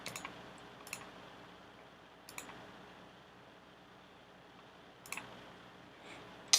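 A computer mouse clicks faintly in a quiet room, a few isolated sharp clicks spaced seconds apart over a low background hiss.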